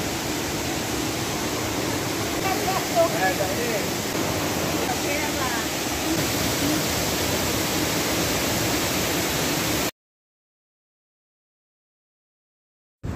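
A tall waterfall pours with a steady broadband roar, loud and continuous for about ten seconds before cutting to silence.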